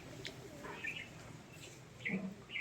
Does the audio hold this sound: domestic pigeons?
yes